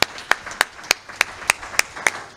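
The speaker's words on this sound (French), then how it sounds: "je vous demande d'applaudir très fort" Crisp, evenly spaced claps at a gala evening, about three per second and fairly close, standing out sharply over a quiet room.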